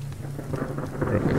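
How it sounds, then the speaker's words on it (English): Rain and rolling thunder in the survival video game Subsistence rumble low and steady, a continuous stormy wash building slightly louder toward the end. "Raining."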